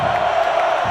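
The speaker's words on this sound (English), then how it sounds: "Crowd seems to be coming alive again" Football stadium crowd cheering and stirring during a third-quarter game between the Pennsylvania Bucks and the Ohio Comets, a steady, dense roar filling the space for about a second with no clear peaks.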